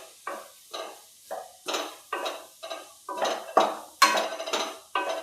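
A spatula scrapes and stirs grated coconut roasting in hot ghee in a pan over low heat. About ten evenly spaced scraping strokes sound close and clear, with no voices.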